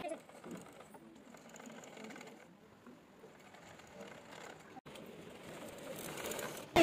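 Domestic sewing machine stitching the neckline of an Anarkali frock, a continuous close mechanical whirr of the needle running for several seconds, with brief pauses and someone speaking over it.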